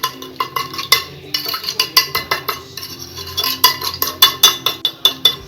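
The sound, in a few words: stirring sugar, cinnamon and milk mixture in a dish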